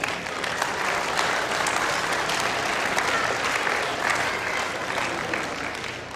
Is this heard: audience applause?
yes